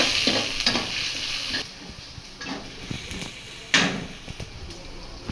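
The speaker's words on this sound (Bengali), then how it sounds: "তারপর দিচ্ছে ব্লেন্ডার করা কাঁচামরিচ হলুদ গুঁড়া সামান্য মশলা গুঁড়া দিয়ে এবার এগুলো একটু কষানো হবে ভালো করে" Blended green chili, turmeric and spice powder stir-frying in a pan for a dried ribbonfish curry, with a loud sizzle and sharp scraping stirs that fade and then return.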